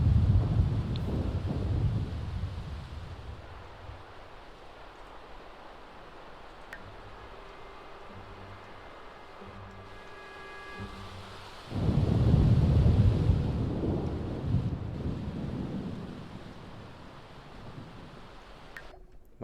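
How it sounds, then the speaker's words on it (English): Rain and rolling thunder from The Sims 4 rumble loudly at the start, fade to a quieter patter with faint game tones in the middle, then a heavy thunder roll swells back in near the end. "My mansion in the rain."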